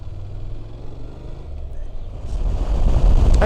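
A Honda motorcycle speeds up to 60 mph on a damp country road, its engine a low steady drone under rushing wind that grows louder toward the end.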